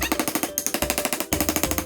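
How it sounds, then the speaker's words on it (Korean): A hammer taps wooden egg basket kit pieces together in a rapid, even series of loud, close knocks, briefly broken by a short pause midway. "이렇게 잘 맞춘 다음에 눕혀서 망치로 뚝딱"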